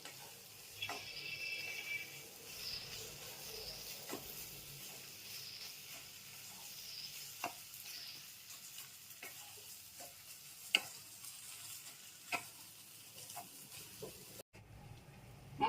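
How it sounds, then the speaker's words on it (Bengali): Boiled potatoes frying with spices in a pan make a faint, continuous sizzle, broken by occasional sharp clicks and scrapes of stirring. "পুরো আলুটাকে আমি ভেজে নেবো"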